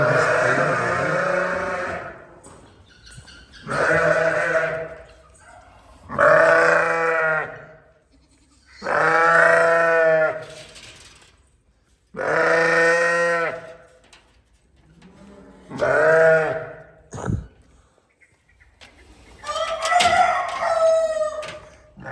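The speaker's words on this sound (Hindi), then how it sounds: "भेड़ बकरियां अंदर आ चुकी हैं, सारी सीधी पानी पर गई हैं।" Sheep and goats bleating as the flock comes back into the pen, loud repeated calls, roughly seven long bleats spaced a couple of seconds apart, close and without talk.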